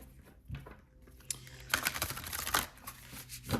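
Tarot cards are shuffled in a few quick riffling, flicking bursts, soft and close, with no speech.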